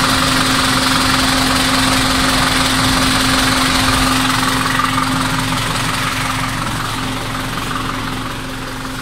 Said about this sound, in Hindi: अब फिर कंप्रेसर ऑन हुआ है, फैन भी चलेगा